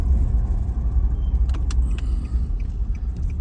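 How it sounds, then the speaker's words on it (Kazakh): A car idles and rumbles close by as it is left in a parking spot near a shop selling mullet fishing gear, a steady low engine drone with a few brief clicks and jingles on top. "осы жерлердің біріне қазір көлікті қалдырамыз осы жерге"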